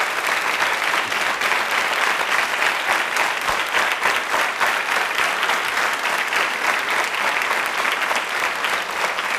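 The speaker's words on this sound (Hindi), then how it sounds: "इस संकल्प के लिए एक बार जोरदार तालियां बजाइए" A studio audience at a college quiz show in Jaipur breaks into dense, steady applause that stays loud and even for about nine seconds with no talking over it.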